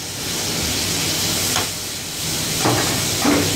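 Cubed capsicum, onion and garlic paste stir-fry for chicken Manchurian in a continuous loud sizzle and hiss. A couple of brief scraping stirs rise above it near the end.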